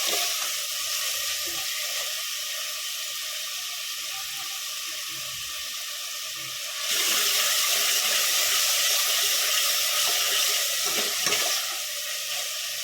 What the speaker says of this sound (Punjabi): ਆਪਣਾ ਟਮਾਟਰ ਚਲਾ ਕੇ ਦੇ ਦਿੰਦੇ ਹਾਂ